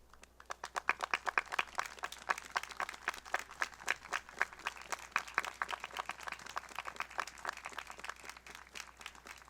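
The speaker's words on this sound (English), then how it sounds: "be recognized with a round of applause" A Veterans Day 2025 ceremony audience giving veterans a round of applause, dense steady clapping from many hands, moderately loud and sustained throughout with no talking over it.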